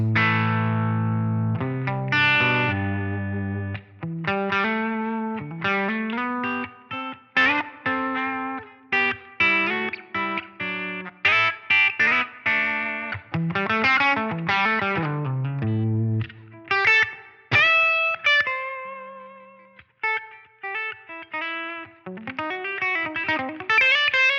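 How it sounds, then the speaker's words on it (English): Distorted electric guitar through a Line 6 Helix Aristocrat amp model playing chords and single-note riffs, close and bright, with brief pauses between phrases and no talking. "here's what this amp sounds like with those settings"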